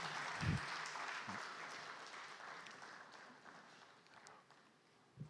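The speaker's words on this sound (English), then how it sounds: "Can you give them a round of applause just to motivate them to?" Faint applause from an audience at an agriculture conference, steady clapping that gradually dies down, heard from a distance.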